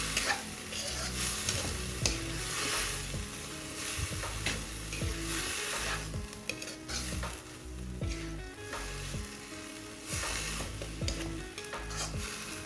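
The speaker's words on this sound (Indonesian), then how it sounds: "Aduk agar bumbunya tercampur rata." Shrimp sizzles and fries steadily in a pan as spices are stirred through, with repeated scraping strokes and light clinks of the utensil over a constant hiss.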